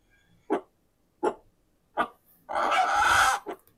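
In the trailer for the Tamil film Kottukkaali, a rooster with a stone tied to its leg gives three short, sharp calls. These are followed by a louder sustained crowing burst of about a second, all close and without speech.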